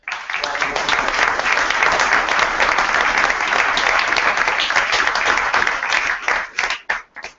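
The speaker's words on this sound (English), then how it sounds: "So I'd like to give them a round of applause real quick." Audience at a startup community demo day gives a round of applause, dense steady clapping from many hands at full volume for several seconds before tapering into a few last scattered claps.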